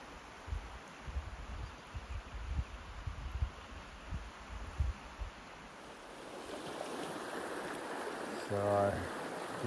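A Montana mountain river flows through wilderness near a campground, a soft steady wash of moving water with scattered low thumps, rising to a fuller rush toward the end.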